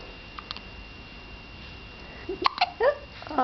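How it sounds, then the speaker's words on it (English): A few small hiccup-like sounds come from a pet dog, brief, soft and close, with quiet gaps between them. "You got the hiccups?"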